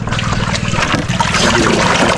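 Brackish water rushes steadily through a sluice gate at a fishpond, a loud, continuous close-up flow with a churning, gurgling texture.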